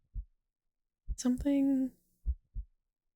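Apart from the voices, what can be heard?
racing heartbeat in a video game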